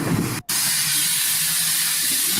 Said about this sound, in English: This is Firefly, a replica locomotive